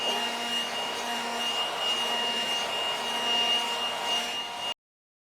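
A steady, loud motorized whine from a blower clearing debris off a weedy lawn runs without a break for several seconds, then cuts off abruptly.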